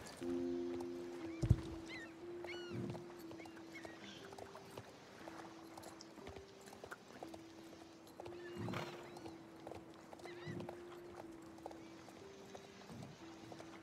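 A horse in a video game clip-clops along at a steady walk, hooves knocking in an even rhythm over a faint tonal hum, with a brief whinny early on and no talking.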